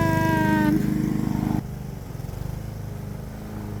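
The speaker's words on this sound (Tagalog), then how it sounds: "tuturuan ako ni Kapapa kung paano gumamit ng traktor" A tractor engine runs with a steady close, loud chugging drone that drops slightly in pitch and level partway through and then keeps idling.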